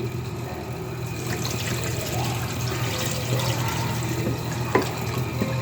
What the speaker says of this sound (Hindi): इसके अलावा अब आपने इसमें शामिल कर देना है पानी।